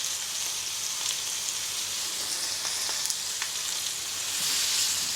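Steak sears loudly in a very hot pan, blackening as it cooks. The hiss is constant and close, scattered with sharp pops and crackles, and no voices are heard.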